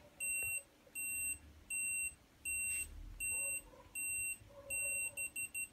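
A Canon AF35ML compact film camera's self-timer beeps in evenly spaced electronic pulses, then speeds into rapid short beeps just before the shot, faint and close.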